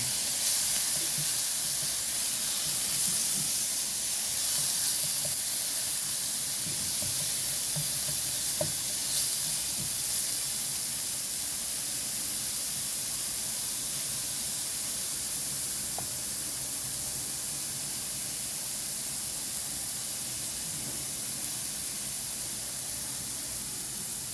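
Garlic and sliced mushrooms sauté in a hot pan, giving off a steady, close sizzle and hiss that holds evenly throughout with only faint stirring clicks.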